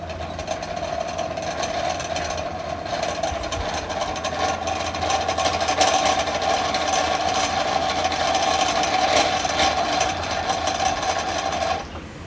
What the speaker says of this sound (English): You stabilize the bobbin winder with your legs and holding the thread with your left hand side. Then you wind it clockwise.